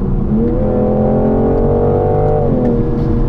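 A 2021 BMW M440i Coupé engine revs up, holds a rising growl and drops back, heard from inside the cabin with part of the sound piped through the speakers; loud, close and smooth, without talk.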